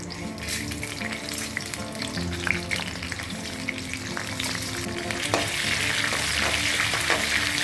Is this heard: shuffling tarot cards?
no